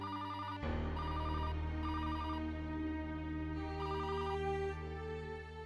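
A landline telephone rings indoors in a home, its electronic bell repeating in steady bursts over a continuous musical background, with no talking.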